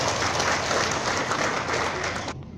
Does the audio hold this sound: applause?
yes